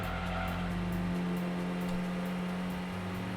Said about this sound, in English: they'll use multiple different tire squealing sounds and they'll progress through them